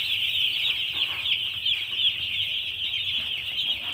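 A group of young chicks huddled together in a heated brooding pen cheep continuously, a dense, high, overlapping peeping that stays steady throughout, with no talking.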